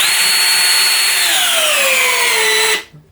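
A Ryobi One drill driver whines loudly and steadily as it drives a screw into wood, its pitch sagging under load before the motor cuts off abruptly and falls silent.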